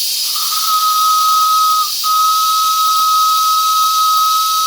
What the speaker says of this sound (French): je pourrais peut-être aussi jouer un peu du sifflet